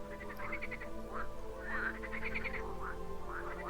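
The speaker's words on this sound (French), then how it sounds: "Vous saurez que vous êtes sur le bon chemin en entendant les grenouilles" Frogs croak beside a small pond along a walking path, a chorus of short repeated calls coming in bursts at moderate distance over a constant low background hum.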